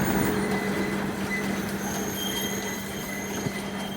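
San Antonio Zoo train passing at night during a holiday outing, a steady rolling rumble with faint wheel squeals and a sustained tonal hum, moderately distant.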